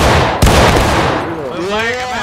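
A musket volley in the Civil War game War of Rights cracks out loud and close, then rolls away into a long reverberant rumble while a player's voice carries on over the tail.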